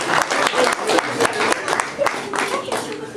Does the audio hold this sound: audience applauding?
yes